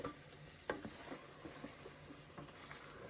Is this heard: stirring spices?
yes